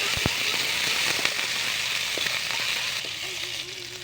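Garlic, onion and tomatoes sautéing in a pan for an ampalaya dish, giving a steady close sizzle with scattered pops and crackles throughout.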